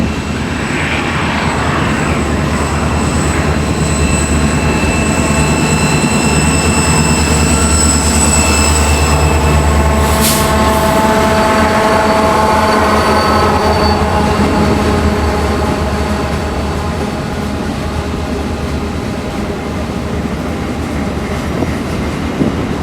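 A CN freight train on the CSX interchange job, led by CSX 8033, rolls past near a Chicago-area junction with a steady, loud locomotive drone and rumble, a brief horn-like tone in the middle, and no voices.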